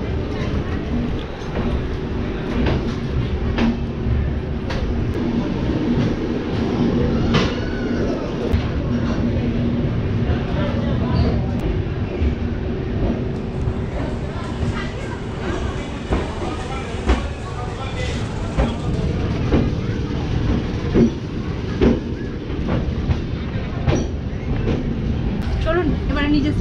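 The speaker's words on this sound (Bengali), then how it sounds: "ট্রেন বেরিয়ে গেছে এখান থেকে।" Rumble and clatter of the 12315 Ananya Express sleeper-class train pulling out of platform 3 in Kolkata, a loud, continuous low roar with rattling wheel and carriage knocks, while a voice talks over it throughout.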